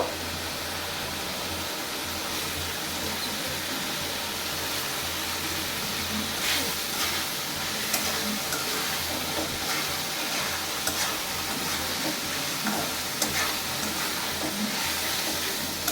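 Stinging catfish (shing) frying in a pan for a curry, with a steady, continuous sizzle and hiss throughout and faint scraping stirs near the middle.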